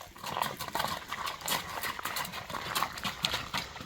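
A horse's hooves clip-clop at a walk on firm ground, in a steady moderate rhythm heard fairly close and quiet, as the horse is led to show its gait.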